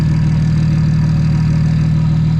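A single-turbo BMW 335 idles loud and close just after being started, holding a steady, throbbing low rumble with no pauses.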